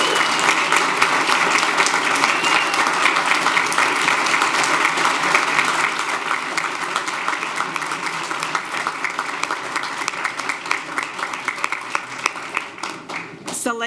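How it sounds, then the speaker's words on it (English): Sustained audience applause at a school board meeting honoring a high school Gates Scholar, a dense steady clapping from a large crowd that fades slightly toward the end. "please give a big round of applause to the district's 2019 Gates Scholar from Ysleta High School, Selene Nicole Rodriguez."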